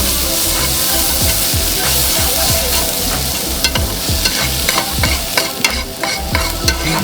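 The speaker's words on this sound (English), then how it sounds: "Gonna flavor that pan with the onion to clean out the grease." Onion sizzles steadily in a greasy pan at a hanwoo beef restaurant, a continuous loud fry with repeated scraping and stirring clicks on top, no talk.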